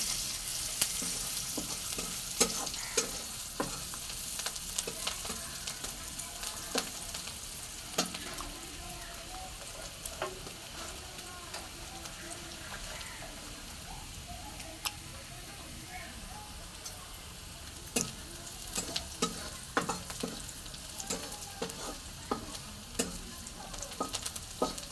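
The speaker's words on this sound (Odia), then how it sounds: "ମୁଁ ବହୁତ ଶାଗ ଭାଜୁଛି ଦେଖନ୍ତୁ" Leafy greens (saag) fry old-style in a home kitchen pan, a steady low sizzle running throughout with frequent sharp clicks and scrapes of stirring, while a voice talks faintly in the background.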